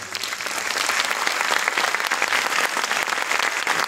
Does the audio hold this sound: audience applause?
yes